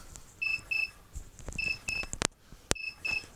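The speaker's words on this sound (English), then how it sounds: "alarm going on the transmitter." An alarm beeps on a radio control model transmitter: crisp, high electronic chirps in quick pairs, repeating three times, close and fairly loud, with a couple of sharp clicks between them.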